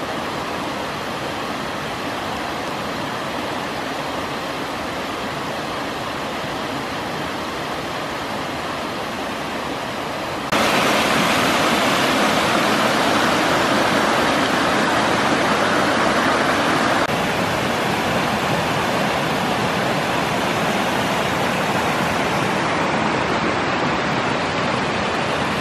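Slade Brook flows steadily on a frosty New Year's Day, a continuous broadband rushing of water that grows louder partway through, with no talking.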